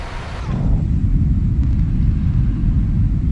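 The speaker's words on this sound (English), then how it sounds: "and the aeroplane will start to climb again" A PMDG 777-300ER airliner climbing in a flight simulator game, a steady low engine rumble that rises after a short opening and then holds loud and constant.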